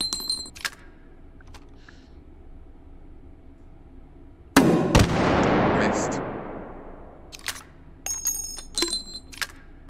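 An underbarrel grenade launcher fires in Hot Dogs, Horseshoes & Hand Grenades: one loud, sharp blast followed by a long decaying rumble. Scattered small clicks and handling taps come before and after it.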